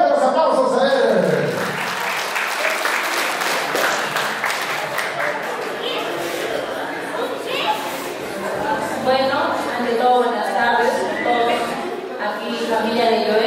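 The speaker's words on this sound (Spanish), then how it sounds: "¡Fuertes aplausos a él!" Guests applaud at a marriage proposal celebration, a sustained wash of clapping with chatter and children's voices mixed in, fading into a speaking voice toward the end.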